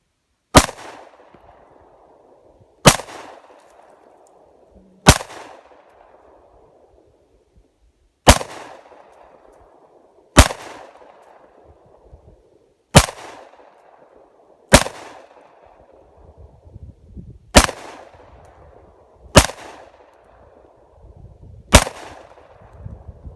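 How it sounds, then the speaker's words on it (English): A handgun is fired repeatedly, about ten single loud, sharp shots spaced a couple of seconds apart, each cracking sharply and then decaying with an echo, with no talking. "we'll shoot at it with something bigger, see what happens"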